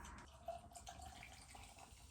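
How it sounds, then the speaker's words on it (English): Sparkling water is poured into a cup, producing a soft, continuous fizzing trickle close by for a couple of seconds in an otherwise quiet room. "let's pour in my sparkling water in my cup"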